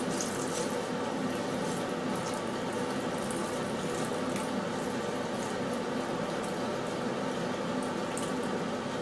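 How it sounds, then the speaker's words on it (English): Saffron-infused stock pours over chicken and prawn paella in a wide pan, a steady continuous liquid rush and bubbling held at an even level with no talk. "our saffron infused stock is going to go in. Just cover the whole dish"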